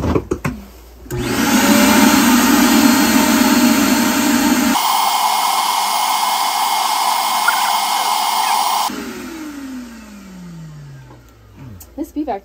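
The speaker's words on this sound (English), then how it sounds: "Okay. Vacuum." A vacuum cleaner roars loudly and steadily, its pitch shifting midway, then switches off and winds down, leaving quiet with a few small bumps.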